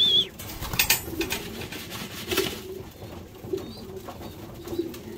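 Pigeons, including mealy and black birds in a loft, coo softly in low, steady murmurs while a burst of wing flapping rustles close by near the start, then scattered flutters follow.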